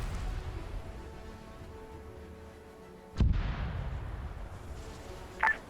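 Distant mortar rounds from a video game military operation boom once sharply, then again more faintly a couple of seconds later, over a low steady rumble.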